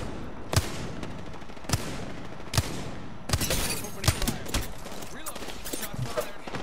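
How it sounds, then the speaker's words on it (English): Apex Legends gunfire from somewhere behind: sharp isolated shots spaced about a second apart, then a denser burst of rapid fire over steady game ambience, fairly distant and moderate in level. "Somebody from the back shooting."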